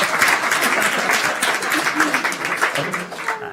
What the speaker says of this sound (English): I can't tell if that's a sympathy applause or a excitement applause.